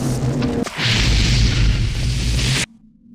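In the stealth video game Thief Gold, a fired projectile collides with a creature's projectile in mid-air, giving a sudden loud booming burst that rumbles on for about two seconds before cutting off sharply.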